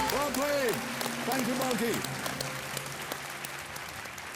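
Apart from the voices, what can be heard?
studio audience applause on a TV quiz show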